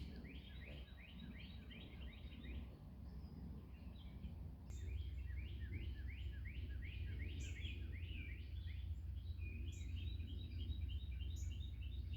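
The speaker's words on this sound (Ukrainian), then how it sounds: "Ось таке пташеня я знайшла. Це American Robin." An American robin chick in Michigan gives repeated bursts of thin, high chirps in quick series, fairly close but soft, over a low steady background hum.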